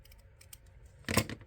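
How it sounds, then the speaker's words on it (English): Scissors snip through ribbon at an angle, a few faint clicks followed by one short, crisp cut close by. "Cut it in an angle."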